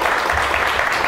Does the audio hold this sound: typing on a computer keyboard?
no